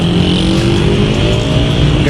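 Dense street traffic in Tehran, Iran rumbles loudly and continuously, with engines droning and a steady roar of nearby vehicles throughout the short stretch.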